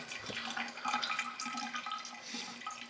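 Water runs steadily through a filter for a minute, a continuous hissing trickle with faint splashy variation, close by and alone.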